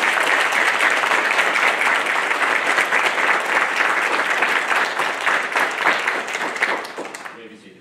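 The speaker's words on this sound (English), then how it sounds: "Families, please join me in a round of applause for the Navy's newest third class." Sustained audience applause at a Navy nuclear field school graduation ceremony, dense steady clapping from a large crowd that carries on for several seconds and then fades out at the end.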